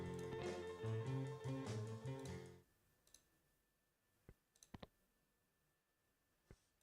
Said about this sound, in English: Oh, I think that's just the regular click sound